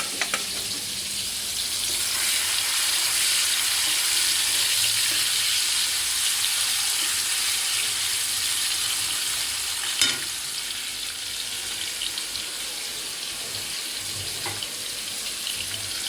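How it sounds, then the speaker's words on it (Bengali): Prawns frying in a pan give a loud, continuous sizzle that holds steady and eases slightly toward the end, with a short clink around the middle and no voices. "চলো চিংড়ি মাছগুলো আর ভেজে নিই।"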